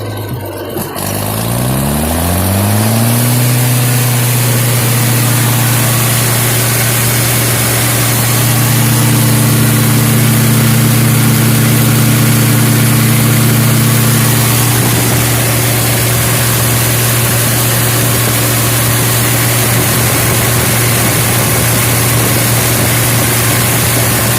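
Farmall C263 engine on an IH 706 tractor catches and revs up from a low idle, then holds a loud, steady, close-up drone with a deep throbbing hum for the rest of the clip.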